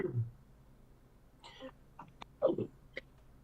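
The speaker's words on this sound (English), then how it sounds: "Excuse me again for the hacky cough here" A man's hacky cough during a trading call, a few faint, short, rough bursts of coughing and throat clearing spread across a quiet background.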